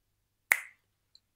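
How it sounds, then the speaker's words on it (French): A single sharp finger snap, close and crisp, with a brief decay into silence and one faint tick afterward. "Et là, il claque des doigts"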